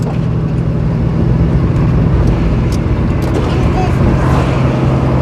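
Wind roars loudly through the open windows of a moving Mustang, a dense steady rush over engine and road rumble, with people talking inside the car.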